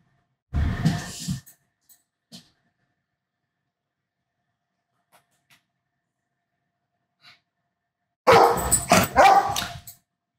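A dog barks loudly and close by in two bursts, one at the start and a longer flurry near the end, with near silence and a few faint ticks between them.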